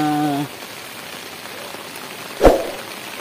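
Steady rain patters on a surface, a broad continuous hiss with a sharp knock partway through; a brief tonal sound opens the clip.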